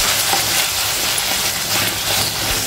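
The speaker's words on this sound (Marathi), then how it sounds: "कांदा लसूण मिरची चांगली फ्राय झाली आहे" Onion, garlic and chillies fry in a pan with a loud, steady sizzle and crackle, the spatters continuous and close throughout, with faint stirring scrapes.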